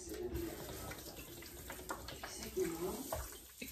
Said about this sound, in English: Use coconut water as my base.